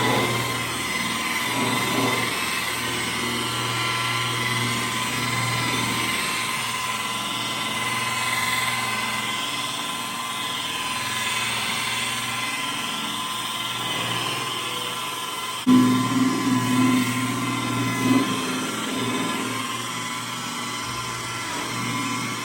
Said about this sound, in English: Main thing all you're doing is polishing the chrome.